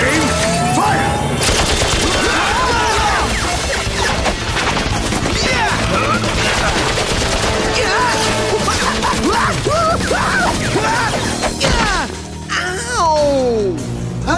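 Loud cartoon firing-squad volley of gunfire mixed with crashing impacts and dramatic whooshes and voices, a dense, chaotic burst of sound running throughout.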